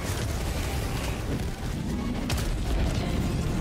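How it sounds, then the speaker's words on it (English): A heavy, rumbling boom from a grenade explosion in Helldivers 2 rolls through a dense, noisy background, low and sustained rather than sharp. "Ooh, nice explosion."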